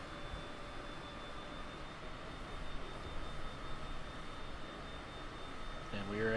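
Steady, faint jet engine hum of a Cessna Citation CJ4 in Microsoft Flight Simulator, a constant cabin drone with some soft clicks near the end.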